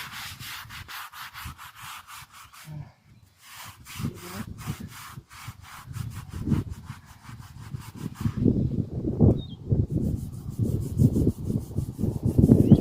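A brush scrubbed hard back and forth across the stone surface of a WW2 veteran's headstone during cleaning with D2 biological solution, giving steady rasping strokes that grow louder and denser toward the end. Nobody talks.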